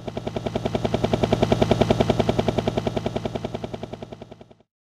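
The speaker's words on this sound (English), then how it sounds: "A helicopter." A helicopter's rotor chops in a fast, steady rhythm, swelling louder and then fading away, with no voices.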